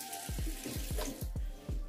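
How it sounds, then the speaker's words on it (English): Tap water running from a bathroom sink faucet onto a toothbrush, a steady close rushing splash with soft rhythmic knocks as the brush moves under the stream. "I always add water on my toothbrush"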